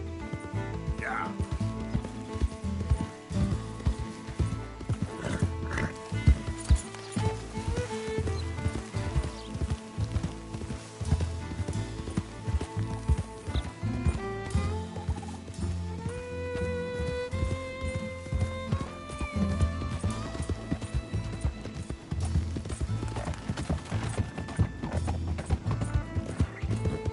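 Horse hooves clip-clop steadily in a video game, with occasional neighs, mixed under continuous music and characters talking.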